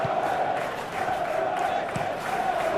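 Stadium crowd noise from a Championship football video game match with Oxford United, a steady broad roar with swells of cheering, continuous and fairly loud without any talk over it.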